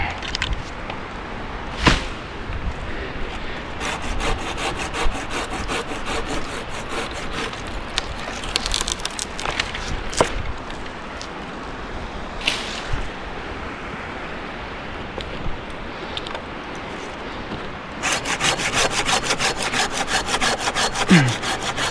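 A hand saw cuts through a tree branch during tree care work, with rhythmic back-and-forth rasping strokes, close and steady, pausing briefly and then resuming in faster bursts toward the end.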